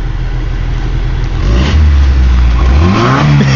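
A white K10 pickup truck engine revs hard, rising in pitch and loudness toward the end, close by and alone with no voices.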